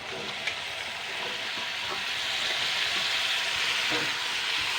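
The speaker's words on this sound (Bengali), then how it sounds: "এরপরে আমি খোসা ছাড়ানো পেঁপে আর মিষ্টি কুমড়োগুলো দিয়ে রেখে দিয়ে দেবো" Peeled papaya and pumpkin pieces, with potatoes, frying in a pan for a vegetarian ghonto, giving a steady, continuous sizzle with occasional faint stirring knocks.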